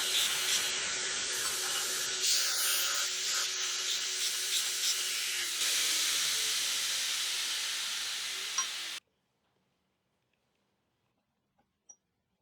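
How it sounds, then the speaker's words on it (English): A belt grinder runs steadily while the ends of metal vise screws are finished on it, giving a continuous close whirring hiss that stops abruptly, followed by near silence and a couple of faint taps. "I'll finish the ends up this time on the belt grinder."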